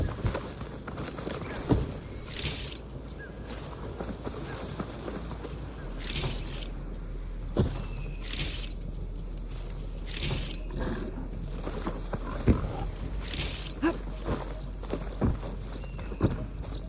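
In Horizon Forbidden West, a machine mount's footsteps clop along in a steady, moderately loud rhythm over a background ambience, with no talking.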